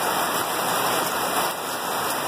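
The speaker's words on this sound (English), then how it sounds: "It's been raining pretty hard. I'm getting a storm in." Heavy rain falls during a storm in Indiana, a dense, constant hiss of drops on surfaces, steady and fairly loud with no voices.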